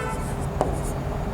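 Brief writing on a board during a Chhattisgarhi language exam-prep lecture, a soft scratchy stroke or two over steady room hiss, with no talking.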